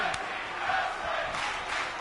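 Video game arena crowd from WWE 2K25 roaring in a steady, dense wash of cheering that fills the whole stretch without letting up, after a wrestler kicks out of a triple powerbomb sequence.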